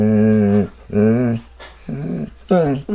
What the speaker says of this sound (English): She is apparently 13 years old, which is very elderly for a basset hound.